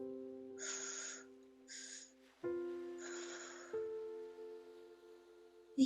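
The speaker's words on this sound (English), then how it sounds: "You breathe in through your mouth and filling up your belly." Spirit breath meditation: breathing in and then out through the mouth, three soft, breathy rushes of air, each about a second long, over a steady, sustained tonal drone.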